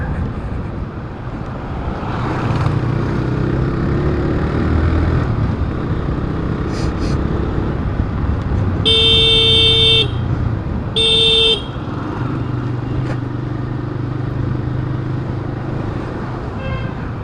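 An auto rickshaw and other road traffic pass by as a constant engine and road rumble. Two loud horn blasts come in the middle, one long and one short.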